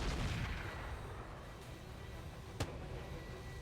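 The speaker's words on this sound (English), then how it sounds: "some sort of a smaller artillery there" Artillery fire in the mech combat game RogueTech: a continuous rumbling battle din with one sharp, loud impact crack about two-thirds through, no voices.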